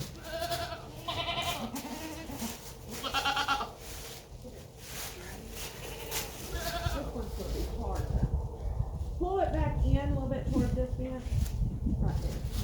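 Goats bleat several times in short repeated calls on a farm, fairly close, mixed with people talking and outdoor work noise around a fence being put up.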